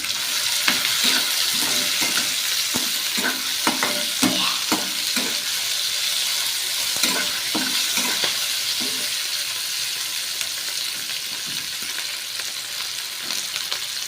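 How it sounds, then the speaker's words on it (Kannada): Garlic frying in a pan along with tomato and onion, a steady loud sizzle with repeated stirring scrapes and clinks throughout, no voices. "1 ಗೆಡ್ಡೆ ಅಷ್ಟು ಬೆಳ್ಳುಳ್ಳಿ ತಗೊಂಡು ಅದನ್ನು ಕೂಡ ಫ್ರೈ ಮಾಡ್ಕೋಬೇಕು."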